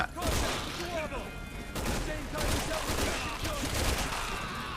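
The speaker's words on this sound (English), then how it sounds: "Oh, it's shooting me with a gun!" Gunfire from an enemy in Resident Evil 6, a steady dense burst of shots mixed with thuds and impacts, loud and continuous under game effects and some voice.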